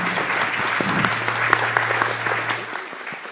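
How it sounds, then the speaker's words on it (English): Audience applause for a health equity summit panel, a dense steady wash of many hands clapping at moderate level for about three seconds, tapering slightly at the end. "if we could give a round of applause for this incredible panel"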